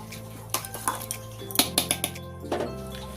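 Ghee being spread around the inside of a wok with a metal spoon, a run of sharp clinks and scrapes of utensil against the pan over a low background hum.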